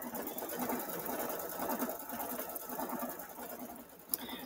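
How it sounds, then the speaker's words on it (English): A Luminaire embroidery sewing machine stitching out a butterfly design, with a steady rapid needle chatter that stays even and close throughout. A single sharp click comes near the end, and there is no talk. "it's going to go ahead and do the rest of the butterfly"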